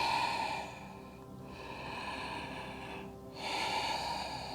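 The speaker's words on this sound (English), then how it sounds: "Breathing in and out of the nose" Slow breathing in and out through the nose during a vinyasa yoga flow, close and airy, with two long breaths separated by brief quieter pauses and no talking.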